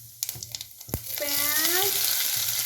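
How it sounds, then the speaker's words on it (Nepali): Fenugreek seeds, cumin and chili dropped into hot oil for a Nepali potato dish, crackling and spitting into a rising, loud sizzle after a few taps at the start, with a brief tonal squeak over it. "तेल तातिसकेपछि हल्का ताते चाहिँ मेथी पड्कायौँ कि हामीले चाहिँ मेथीसँगै हामीले चाहिँ जिरा पनि फुरायौँ कि जिरासँगै खुर्सानी"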